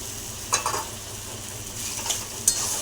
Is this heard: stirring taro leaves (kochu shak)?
yes